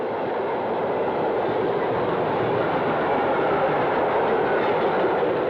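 Conrail E44 electric freight train rolling past, a steady loud rumble with continuous clickety-clack of wheels on rail, no voices.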